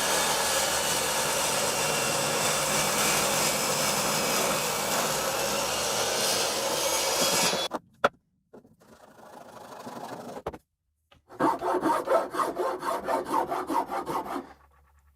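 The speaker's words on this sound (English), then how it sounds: "I can now clean up these ends on the table saw" A table saw trimming the ends of a black walnut block: a loud, continuous whirring roar for several seconds that suddenly stops, then short bursts of rhythmic rasping strokes after a pause.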